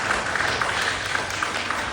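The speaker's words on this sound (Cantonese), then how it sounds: "俾個掌聲我哋嘅周牧師先" A congregation at a church gathering applauds for Pastor Chow, a fairly even wash of clapping held at moderate level from start to finish with no voices over it.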